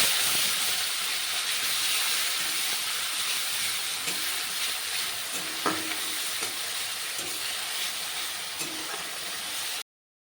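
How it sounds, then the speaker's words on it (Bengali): Grated onion with whole garam masala and bay leaves frying in hot oil, a loud, steady, close sizzle with a few faint stirring clinks, then an abrupt stop. "এখানে দিয়ে দেব 2টো বড় সাইজের পেঁয়াজ গ্রেট করে রাখা"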